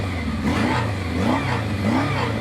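A 1979 Kawasaki KZ650SR motorcycle with a stuck carburetor float revs up close, its engine rising and falling in loud, repeated swells over a steady idle rumble.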